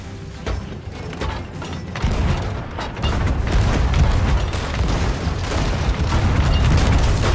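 Booming cannon fire from a pirate ship in Sea of Thieves, a dense run of heavy low blasts and mechanical clatter that keeps building over several seconds, with no talk over it.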